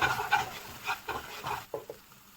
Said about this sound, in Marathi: याला चांगला मिक्स करून घेऊ आपण